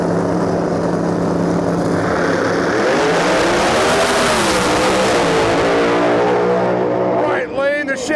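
Chevy II drag car at a Lights Out drag racing event launching down the right lane, a loud sustained roaring engine with rising pitch sweeps as it accelerates away, crowd and track noise underneath.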